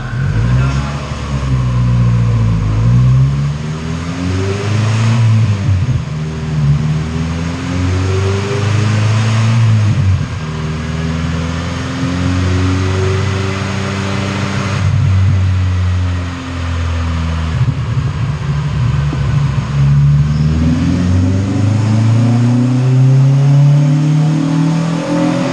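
A Honda CR-V's B20V engine revs on a dyno pull, loud and close. The engine climbs in pitch, drops back and rises again in repeated sweeps.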